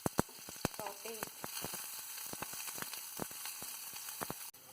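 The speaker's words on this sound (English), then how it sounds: "Add garlic, red chili," Garlic and red chili sauteing in hot oil in a pan, with a steady sizzle and frequent sharp pops and crackles, close and fairly quiet, with a few faint utensil clinks.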